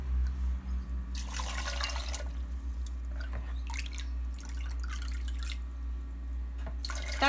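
Water pours in several short bursts into a blender, splashing and trickling over a low steady hum.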